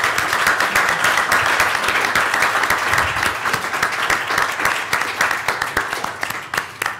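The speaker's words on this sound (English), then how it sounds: "And one big round of applause for all of our competitors." A large crowd applauds the competitors at an innovators competition, with dense, continuous clapping that stays loud for about seven seconds before thinning slightly toward the end, and no speech over it.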